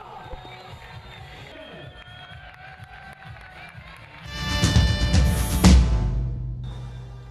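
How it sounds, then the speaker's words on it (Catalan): Handball club fans applaud and cheer in a sports hall, the crowd noise swelling abruptly midway into a loud, dense burst that peaks and then eases back toward a quieter murmur. "aplaudiments de l'afició."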